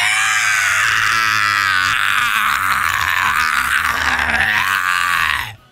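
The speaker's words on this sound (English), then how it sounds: "Frieza starts screaming in pain." Frieza from the anime screams in agony, a long continuous strained howl with shifting pitch that stays loud and raw for over five seconds before cutting off abruptly.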